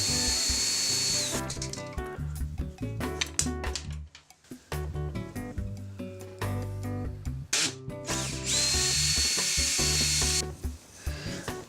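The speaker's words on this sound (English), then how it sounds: "Finding the right size bit to drill out the cavity for the bead." A power drill with a 29/64-inch bit bores a cavity into wood up close, a loud whirring grind that runs steadily with a few brief pauses and dips.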